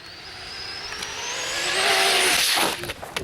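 A fast RC car, the kind that reaches about 60 km/h, whines past with a rising high-pitched motor tone that builds to a loud close pass and then drops away.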